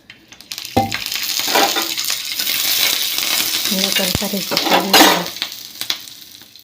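Oil crackles and sizzles steadily in a hot pan while peanuts roast, with a few sharper bursts and light clinks of a utensil against the pan.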